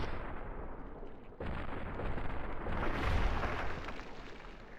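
A deep, rumbling blast from Fallout New Vegas swells to a loud peak near the middle and then slowly fades, with no other sounds layered over it.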